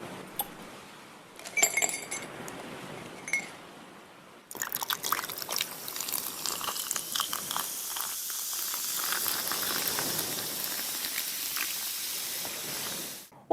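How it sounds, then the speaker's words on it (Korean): Ice clinks into a glass cup with a few sharp chinks, then a drink is poured over it in a steady fizzing, trickling stream that fades out, close and fairly quiet. "정답은 얼음을 담은 컵에 음료수를 담는 소리예요."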